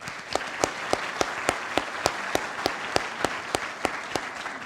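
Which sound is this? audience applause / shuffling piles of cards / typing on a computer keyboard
audience applause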